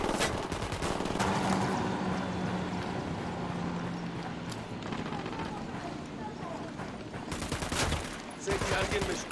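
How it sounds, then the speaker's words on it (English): Gunfire in the open-world shooter Ghost Recon Wildlands: dense, sustained automatic fire rattling almost continuously, with a few sharper close shots near the end, mixed with a voice and background game noise. "I'm opening fire on these shitheads."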